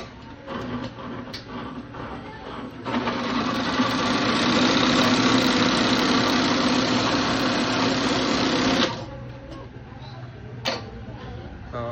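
Embroidery machine starting up after its sensor was cleaned, with a loud, steady mechanical whir and rapid ticking needle rhythm running for about six seconds before cutting off, surrounded by quieter clicks and handling sounds.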